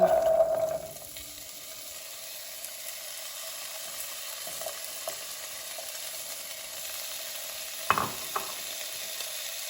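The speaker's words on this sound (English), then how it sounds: "So once our oil has heated up a bit, we're gonna go ahead and just toss our potatoes in." Potatoes frying in hot avocado oil for tacos give a soft, steady sizzle after a brief louder hiss at the start, with a couple of faint clinks and stirring sounds later on.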